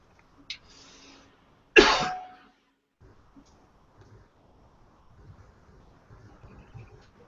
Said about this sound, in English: If I continue to cough like this, I may have to call it